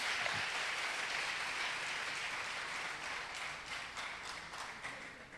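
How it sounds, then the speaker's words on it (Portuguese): Church congregation applauding, a dense steady wash of many hands clapping together, continuous and moderately loud throughout, with no one speaking. "Aplauda o Senhor Jesus"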